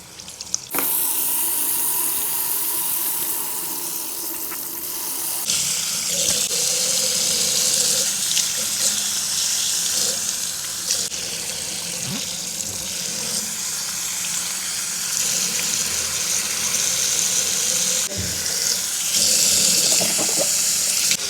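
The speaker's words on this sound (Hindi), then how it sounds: "अब गर्म पानी आ गया।" Hot water gushing steadily from a tap into a sink during a makeup-removal routine, a loud, continuous rushing hiss that shifts slightly in tone as the flow or the hands under it move, with no talking.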